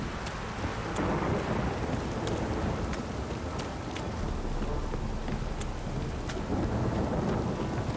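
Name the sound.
rain and thunder in video game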